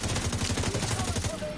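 Rapid automatic gunfire aimed at a sniper in the video game The Division 2, a fast, even rattle of shots running through the whole short stretch with game noise behind it.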